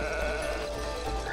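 A sheep bleat from the video game It Takes Two sounds out as a single continuous wavering cry, close and fairly loud, on its own with no talk.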